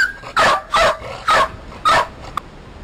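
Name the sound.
dog barking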